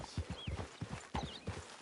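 Horse hooves clip-clopping in Red Dead Redemption 2, a quick even rhythm of close, distinct hoof strikes at walking pace, fairly quiet, with no talk over them.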